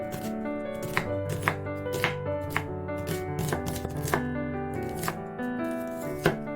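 A knife slices an onion on a board in a steady series of crisp cuts about half a second apart, heard clearly beneath soft background music.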